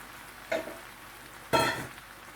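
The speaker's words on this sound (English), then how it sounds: "I'm going to stir. I'm also adding my jackfruit." A spoon stirs jackfruit stew in a pot, making two brief, soft scraping swishes about a second apart over quiet background.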